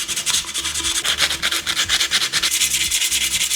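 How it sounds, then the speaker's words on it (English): Sanding down an edge by hand during a budget DIY furniture makeover: a steady, close, rhythmic back-and-forth rubbing with quick regular strokes and no voices. "Now I'm gonna see what happens if I sand her down a little."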